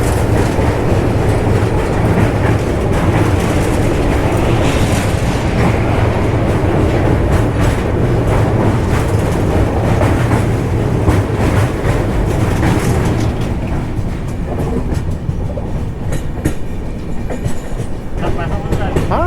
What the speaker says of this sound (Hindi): इस ब्रिज की जो आवाज़ है वो गदगद कर देती है।